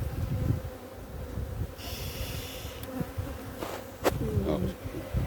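Honey bees buzz in a dense, continuous drone close by, with a few soft knocks and rustles mixed in.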